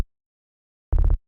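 A synth sub layer built from a saw and a sine wave for the Apex Legends Nemesis sound gives a short, punchy low burst with fast pulsing modulation, loud and alone after silence.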